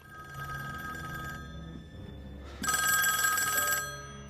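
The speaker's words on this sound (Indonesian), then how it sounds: "tiba-tiba, sebuah telepon berdering" A telephone rings with a bright, trilling electronic bell over low background music, two bursts separated by a short pause.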